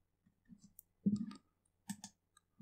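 Several quiet, close computer mouse clicks in a row, short and dry, with a few soft taps in between.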